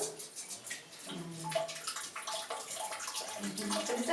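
Tap water runs and gurgles into a bowel irrigation system just after its valve is opened, a light, uneven splashing flow that grows slightly stronger toward the end, with no speech.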